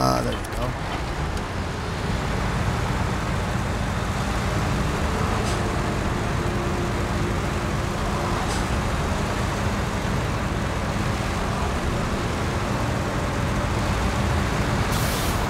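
P12 truck driving in SnowRunner, a steady loud engine drone and rumble over snowy dirt road, continuous with a few faint clicks, a voice talking over it.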